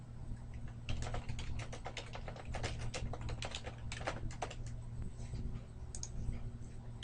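Rapid, uneven clicks of fingers typing on a computer keyboard, quiet and close, coming in bursts with brief pauses over a low steady room hum.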